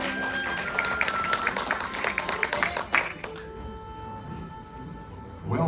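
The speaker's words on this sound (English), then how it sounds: "Let's get a great big round of applause." Guests at Walt Disney's Carousel of Progress at Walt Disney World applaud as the show begins. The lively clapping lasts about three seconds, then dies out and gives way to sustained musical tones.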